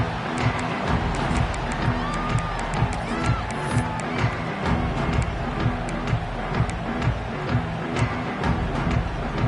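A college football stadium crowd keeps up a steady, dense roar of murmuring and scattered shouts throughout, distant and continuous, with no single loud cheer standing out.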